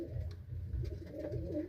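A yellow pigeon, with a blue check hen nearby, gives soft low cooing, repeated throaty rolling notes heard close up over a faint room background.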